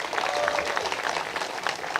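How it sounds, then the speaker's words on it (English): An audience claps at a statue dedication ceremony honoring Dawn Staley, a short continuous patter of many hands heard from a distance at moderate volume, with no clear voices. "Y'all clap your hands for that."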